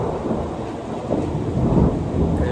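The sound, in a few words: thunder during thunderstorm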